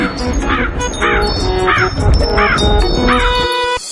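A crow in a Hindi comedy story caws in a rhythmic series of about five loud, harsh calls, evenly spaced and close, with other busy sounds layered underneath.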